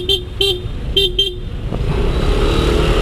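Short horn toots from a motorcycle in road traffic: four quick, loud honks in a fast uneven pattern, then a steady engine and traffic rumble continuing underneath.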